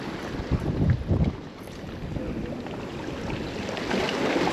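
Strong wind buffets a boat on a lagoon, roaring rumble with gusty bursts early then a steady rushing blow, close and loud with no voices.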